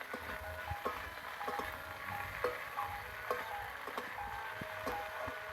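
Cauliflower, potatoes and spinach stir-fried in a pan with onion and garlic: a steady soft sizzle with frequent light clicks and scrapes of stirring, close and continuous, with no talking.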